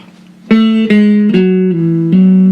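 A guitar riff from a song, played slowly: a handful of sustained, ringing plucked notes in a steady sequence, loud and close, with no voices.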